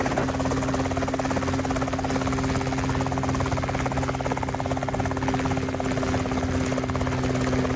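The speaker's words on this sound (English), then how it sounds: "You're going to pick her up to a stable 1-foot hover and feel the aircraft." A Rotorway helicopter lifts off into a stable low hover during a training flight, its engine and rotor giving a loud, steady, close drone with a constant buzzing pulse and no talking.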